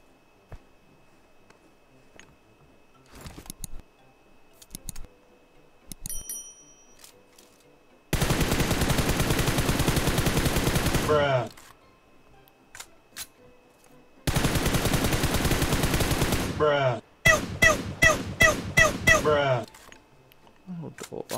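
Gunfire in a video game, shooting at long range: a few sparse shots, then two long sustained bursts of automatic fire and a run of rapid distinct shots, loud against a quiet background.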